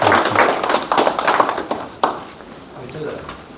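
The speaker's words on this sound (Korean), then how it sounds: "큰 박수로 환영해 주시기 바랍니다" Audience applause at a farmers' education lecture in Jinju, Korea, sounds as a thick patch of close clapping that fades after about two seconds, with speech over it.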